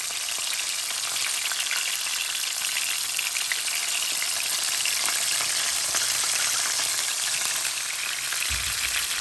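Fish fries in hot oil in a pan, a loud, steady, dense crackling sizzle that continues unbroken and close up, with a soft low bump near the end.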